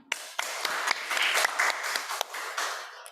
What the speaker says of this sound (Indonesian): Sebelum itu kita beri apresiasi, boleh tepuk tangan